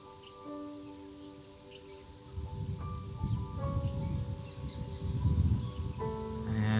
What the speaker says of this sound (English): And it's getting windy again